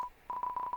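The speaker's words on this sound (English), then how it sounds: "The phone is ringing, but you can't get it." Touch-tone phone dialing in the video game Deltarune: a short clean beep, a pause, then a quick run of several steady electronic tones in uneven rhythm, close and clear with no talk.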